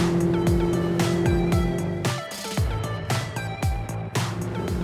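Salpa Soleil 20 motorboat pushed to maximum speed, a loud engine roar with rising tones and repeated thumps as the hull slaps the water, heard up close with no talking.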